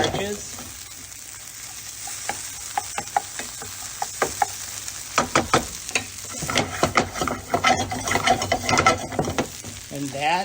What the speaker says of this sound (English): I like to keep working it like this in the pan, just to go ahead and agitate those starches